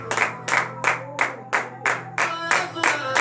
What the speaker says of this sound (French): Donnez de vive acclamation à notre Seigneur Jésus.